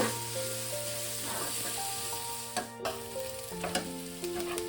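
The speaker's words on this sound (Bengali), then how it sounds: "পেঁয়াজটা লঙ্কাটা ভাজা হয়ে গেছে।" Onion and green chilli frying in a pan with chopped ginger, a steady close sizzle throughout with a few sharper crackles and stirring knocks partway through.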